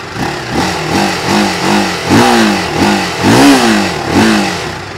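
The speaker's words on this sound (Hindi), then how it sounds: "अब बढ़ते हैं इसके एग्जॉस्ट साउंड सुन लेते हैं गाइस, कैसा एग्जॉस्ट साउंड आने वाला है।" A 2023 TVS Apache RTR 310 motorcycle revs through its exhaust with about five or six throttle blips in a row, each rising and falling in pitch. The bike sounds loud and close, with no talking.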